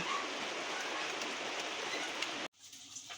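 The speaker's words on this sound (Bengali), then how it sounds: "বৃষ্টি চলে আসছে।" Rain pours down in a dense, even hiss of drops on surfaces, loud and unbroken, then cuts off abruptly to a quieter background near the end.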